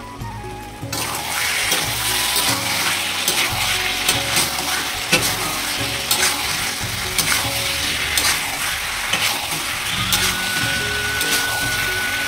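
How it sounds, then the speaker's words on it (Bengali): Chicken meat with potatoes sizzles loudly and steadily in a pan while being stirred, with close scraping and clattering from the utensil over continuous hissing frying. "ঢাকনা চাপা দিয়ে এখন ভালোভাবে কষিয়ে নেব মাংসটিকে।"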